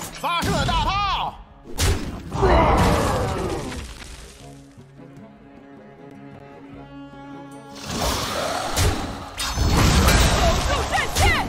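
Cannons fire in the card game Hearthstone, giving heavy booming thuds with crashing, shattering debris. They come in several separate loud bursts, with game music and voice lines between them.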